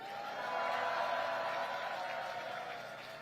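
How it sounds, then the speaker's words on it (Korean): Audience at an outdoor political rally in Songpa, Seoul, applauding as a broad, steady wash of clapping that swells and then slowly fades, with crowd murmur and no clear speech over it. "격려의 박수 부탁드립니다"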